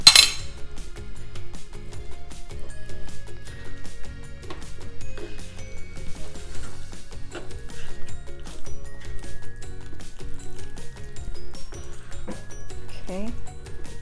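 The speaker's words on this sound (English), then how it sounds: "just get it mixed in evenly" Stirring chopped chicken into a pot of three-cheese bacon mac and cheese, soft repeated clinks and scrapes of a utensil against cookware under steady background sound.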